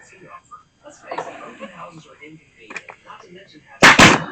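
Someone talks briefly, then a brad nailer fires into a wooden door mat with a sharp double pop, loud and close at the very end.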